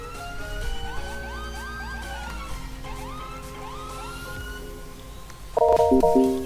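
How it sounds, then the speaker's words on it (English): A police car siren in an ESX roleplay video game, wailing with rising and falling tones, then switching abruptly to a louder rapid yelp near the end, loud and alone. "I usually use my up arrow, and I'll activate my siren"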